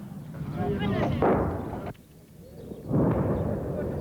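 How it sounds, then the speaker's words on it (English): Heavy weapons fire during a 1999 Kosovo combat scene, with mortars and tank guns mixed with heavy machine gun clatter: loud, dense rumbling bursts with sharp cracks, a brief lull, then another heavy burst. "the sounds of mortars and tank fire mixed with the clatter of heavy machine guns"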